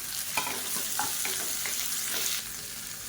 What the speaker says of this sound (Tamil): வெங்காயம் நல்லா வதங்கிருச்சு இதில் மீடியம் சைஸாக ரெண்டு தக்காளி பொடியாக கட் பண்ணதை சேர்த்துக்கலாம்